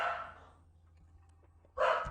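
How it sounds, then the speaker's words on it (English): A dog barks twice indoors, one loud bark at the start and another after a quiet pause, both close and unaccompanied by talk. "Sorry, that's my dog if you can hear that."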